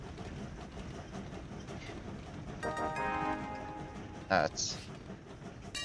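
Trains running on tracks in the rail-management video game Train Valley, with a soft, steady rumble and a brief clickety-clack passage midway, under someone speaking and game interface sounds.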